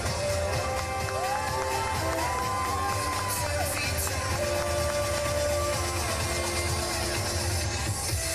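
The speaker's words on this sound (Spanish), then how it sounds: "¡Fuerte el aplauso!" A studio audience at a Santo Domingo morning TV show claps and cheers steadily throughout, with loud crowd noise, whoops and music-like tones mixed into the constant roar.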